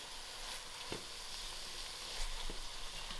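Gram dhal and sheep tripe fry together in a pan with a steady broadband sizzle and a few soft stirring knocks, close and fairly quiet, no voices.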